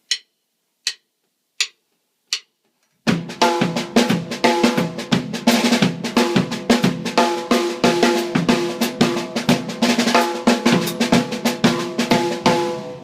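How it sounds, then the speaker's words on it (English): Four sparse count-in clicks on sticks, then a full drum kit kicks into a New Orleans second line feel, a swung-yet-straight march groove with busy snare and cymbals, loud and close throughout. "we've got the New Orleans second line feel"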